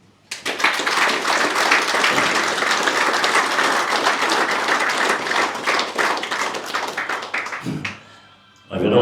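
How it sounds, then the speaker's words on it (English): A room of people at a presentation gives a round of applause: dense, steady clapping that holds for several seconds, then stops abruptly, leaving a brief quiet before a voice begins. "So I'd like to give a round of applause to Bernie,"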